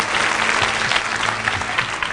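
A studio audience on a television show claps loudly and continuously, a dense, even wash of applause from start to end with no voices on top.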